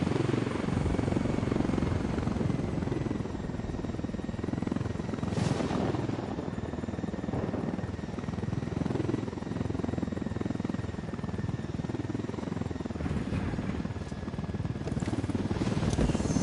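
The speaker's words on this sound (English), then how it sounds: "Nothing like swiping a helicopter to bring a day into focus." Steady, loud helicopter rotor and engine drone in a video game throughout, continuous and close, with no voices.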